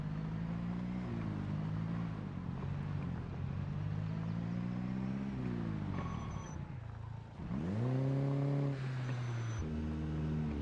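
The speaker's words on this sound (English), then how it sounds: "Should I bring the loud car here? I think we could bring the loud car." A loud car engine in the zombie survival game Project Zomboid drones steadily, its pitch shifting up and down as it revs, then dips briefly and surges again, close and continuous with no talking.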